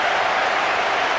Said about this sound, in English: And the cheer that goes around Anfield